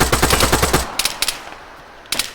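Video game gunfire in a gas station fight: a rapid automatic burst of close, loud shots, then a few isolated cracks and a short final burst.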